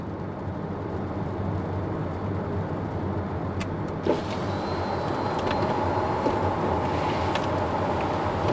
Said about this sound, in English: drop the car's roof when I'm doing 30 miles an hour